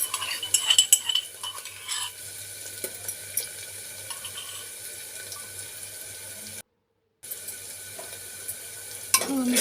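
Ginger garlic paste being fried and stirred in a pan, with a steady sizzle and the scrape and clink of a utensil, fairly close and continuous, no talking, broken by a short silent gap.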